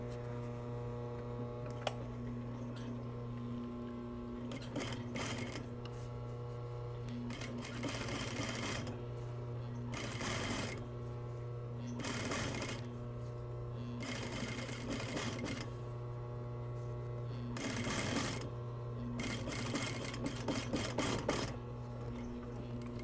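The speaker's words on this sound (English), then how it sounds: "Right after stitching, understitch" A sewing machine understitching a pocket on yoke pants, running in several short bursts of rapid stitching separated by pauses, close and fairly quiet over a steady electrical hum, with no talk.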